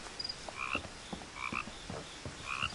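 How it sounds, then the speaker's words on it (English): A frog in the video game What Remains of Edith Finch croaks repeatedly in short, irregular bursts, faint and fairly close against a soft background. "That's a nice frog. I like the audio design."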